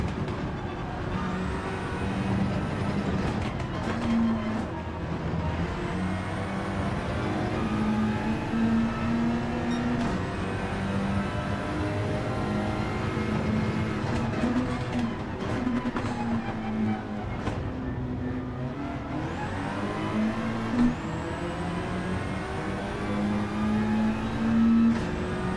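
A car engine in Gran Turismo 4 revs and accelerates through repeated gear changes, its loud, steady drone rising and dropping in pitch several times with no talk over it.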